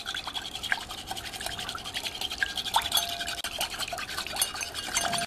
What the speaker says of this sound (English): now we're going to slowly whisk in the 1/2 cup of olive oil